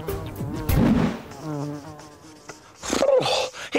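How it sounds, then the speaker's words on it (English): A bee buzzes in a children's craft show, its hum rising and falling in short bursts amid brighter swoops and a louder burst near the end. "It's a bee!"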